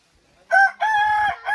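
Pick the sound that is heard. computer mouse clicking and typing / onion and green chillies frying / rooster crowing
rooster crowing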